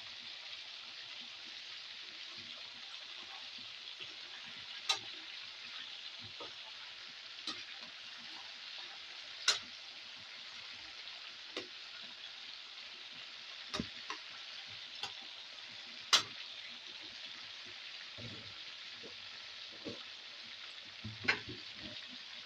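Marinated pork frying in a pan, a quiet continuous sizzle with scattered sharp pops and crackles throughout.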